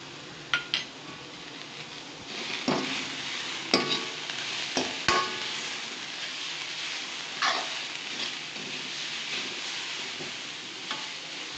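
Beetroot poriyal with turmeric and salt sizzling in a pan while a spoon stirs and scrapes against it, several sharp clinks standing out early on over a constant close frying hiss.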